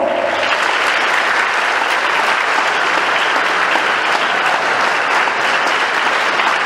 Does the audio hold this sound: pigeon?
no